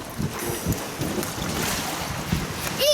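Strong wind buffets the microphone outdoors beside icy water, a steady loud roar with gusty bursts throughout and no one speaking.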